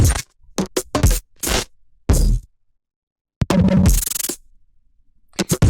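Chopped drum loop for a main drop, driven through Trash distortion, with gritty bursts of crushed hits separated by short gaps and a longer sustained noisy stretch, loud and dry with no voice over it.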